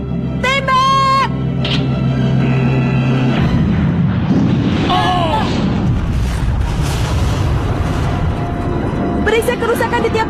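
A deep booming blast of a giant cannon firing in the Indonesian dub of the anime Hunter X Hunter rumbles out amid loud, excited voices, with shouting before and after the explosion.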